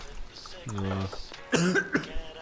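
A character coughs in Elevator: Source, a Half-Life 2 mod, with one short, rough burst in the middle of the clip. Players talk around it.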